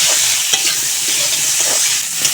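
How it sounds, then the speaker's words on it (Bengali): Potatoes frying in oil with turmeric powder and a little salt in a kadai, a steady loud sizzle with a few stirring scrapes and no talk. "হলুদ গুঁড়া আর সামান্য লবণ দিয়ে আলু ভেজে নেব।"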